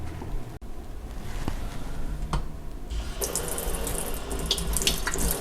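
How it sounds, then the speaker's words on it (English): Kitchen sink tap running lukewarm water at fairly high pressure, a steady close splashing stream that grows brighter and louder partway through as the flow hits the basin. "this is going back to the sink to water again."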